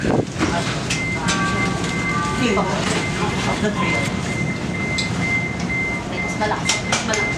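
Chicago CTA Blue Line train at O'Hare station, a loud, close rumble with steady clatter and a sustained high whine, mixed with people talking nearby.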